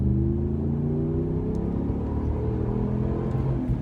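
A 2009 Dodge Ram 1500 pickup accelerating from a stop, a loud steady engine drone heard from inside the cab with rising harmonic tones as it pulls through the run, no talking.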